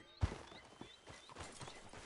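A horse in Red Dead Redemption 2 clip-clopping at a slow walk, with a sharp hoof strike at the start and then softer, uneven steps, fairly faint and with no speech.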